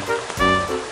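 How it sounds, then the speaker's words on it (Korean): Water flowing in a small stream, a steady rushing wash that is loud and close, with harmonic tonal traces suggesting voices or other sounds mixed over it. "그냥 시냇물 아니야?"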